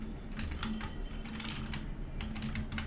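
Quick clusters of key presses clatter on a computer keyboard as a heading is typed into an Excel sheet, light and close, with brief pauses between bursts and no talking.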